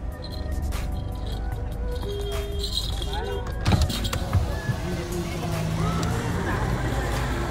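A pickup truck drives past on a street in Nepal, its engine rumbling close by with mechanical creaks and rising noise as it passes, over steady background traffic hum.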